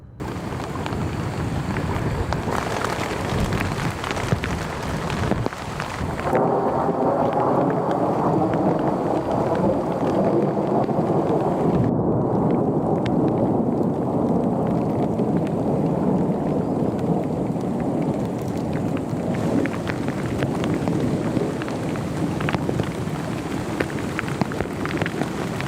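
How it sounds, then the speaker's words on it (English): A heavy thunderstorm around a tent in remote wilderness, dense loud rain pounding continuously with deep rolling thunder and gusting wind throughout, steady and close. "heavy rain and sharp lightning strikes surrounded her tent"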